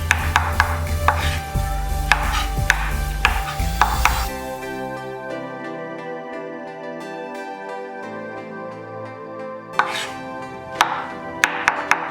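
Mushrooms chopped with a knife on a board give a series of sharp, close taps for a few seconds, then a pause filled by steady music before more quick chopping returns near the end.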